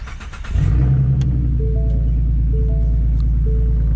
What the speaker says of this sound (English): Let's just start her up